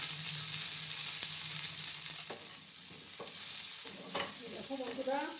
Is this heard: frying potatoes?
yes